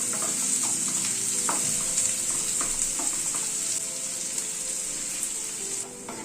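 Chopped onions sizzle steadily in a pan over a medium gas flame for a Coorg-style paneer masala curry, with occasional scrapes and knocks as they are stirred, close and continuous.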